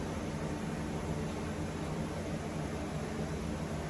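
A 4070B machine runs a machining operation, cutting spring pockets into a part, as a steady, even whir and hiss that holds constant throughout with no voices.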